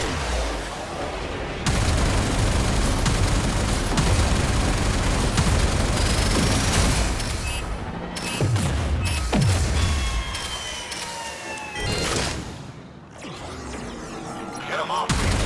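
Weapons and torpedoes firing in the video game Warframe, a dense continuous barrage of booming shots and explosions with rumbling low end, loud and sustained, with brief swelling blasts throughout.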